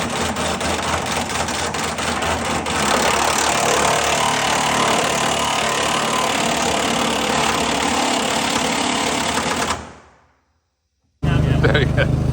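A Mazda MX-5 engine idles close by with a steady, dense rumble that runs for about ten seconds, then cuts out abruptly. After a brief silence a loud burst returns.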